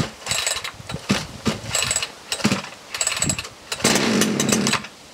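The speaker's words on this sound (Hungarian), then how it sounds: "A láncfűrész mutasd, légy szíves, nem berántjuk, hanem behúzzuk." A chainsaw started by pull cord with the choke on: several close, loud sputtering bursts from the pulls, then the engine catches and briefly roars on its own.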